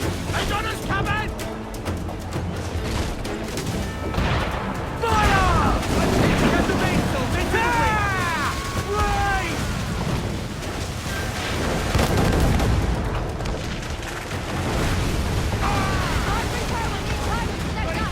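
Cannons boom during a naval battle between sailing ships in Assassin's Creed IV Black Flag, with repeated heavy blasts and splashes amid crew shouting and a constant roar of wind and sea.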